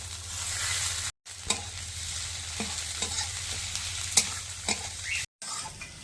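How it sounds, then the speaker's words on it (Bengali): Green chillies and tomatoes sizzle in hot oil while a utensil stirs with occasional scraping clicks, and the sound briefly cuts out twice. "এবারে কাঁচা লঙ্কা টমেটো দিয়ে দেব কাঁচা লঙ্কা আর টমেটো"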